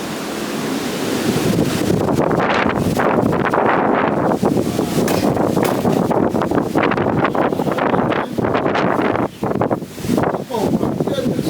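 Strong, steady wind roars and buffets the microphone on a front porch during nearby fires, loud and continuous with gusty swells.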